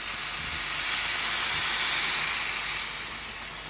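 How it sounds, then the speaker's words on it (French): Cold syrup is poured directly over hot knafeh, giving a steady, loud, close hiss and sizzle that holds evenly for several seconds before easing slightly, with no speech. "vous versez directement là le sirop froid sur le kunafe chaud"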